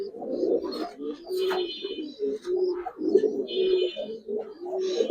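Giribaz pigeons coo close by in repeated throaty bursts, several soft rolling calls following one another with brief gaps and faint chirps in between.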